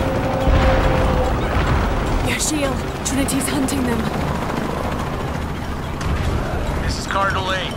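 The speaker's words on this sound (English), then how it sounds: "Helicopters." A helicopter in the video game Shadow of the Tomb Raider churns steadily in the background under spoken radio-style dialogue, with scattered mechanical clanks and bursts of combat noise.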